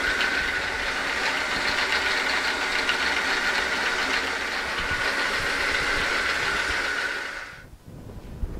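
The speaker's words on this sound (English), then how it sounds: "Tried to stop the lathe" A wood lathe boring a chuck spindle adapter runs steadily with a loud, even mechanical drone, then winds down and falls quiet near the end.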